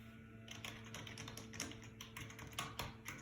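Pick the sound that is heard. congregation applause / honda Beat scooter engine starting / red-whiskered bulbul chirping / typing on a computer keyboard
typing on a computer keyboard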